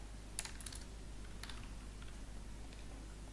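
Brief clusters of keyboard key presses on a computer while entering settings, a few quick taps around the first and second seconds and fainter ones later, over a steady low hum.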